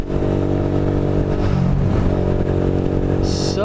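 A 600cc motorcycle accelerates hard, its engine note climbing loud and close with rising harmonic tones and steady roar, wind noise building toward the end.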